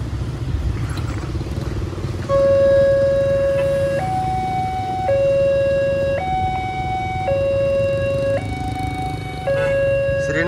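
A loud electronic railway crossing warning siren alternates between two tones in a steady pattern over a rumbling engine and traffic background, with voices faintly underneath, at a level crossing in Sragen, Central Java.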